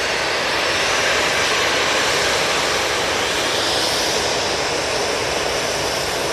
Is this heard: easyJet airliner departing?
yes